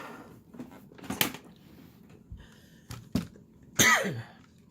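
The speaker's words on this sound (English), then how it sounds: "I was hoping I would not cough through here" A person coughs several times in short, separate bursts, close and fairly loud, with quiet gaps between them, during a paper-leaf crafting session.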